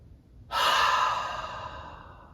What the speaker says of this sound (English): So please exhale, emptying out all the stale air.